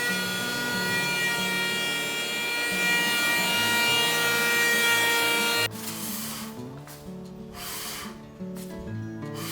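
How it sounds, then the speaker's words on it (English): Pine beams being hand planed: a long, steady rasping shave close up, followed by shorter separate strokes of wood scraping. "Now, I've finished planing the flat pine beams."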